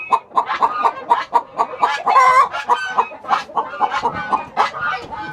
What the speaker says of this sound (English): These old buff Orpingtons, they can get broody, and they can be the aggravatingest chickens to deal with.